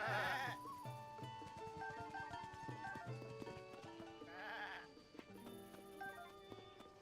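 A goat in Zelda Tears of the Kingdom gives quavering bleats at the start and again midway, set against bright, plucky game music that carries throughout.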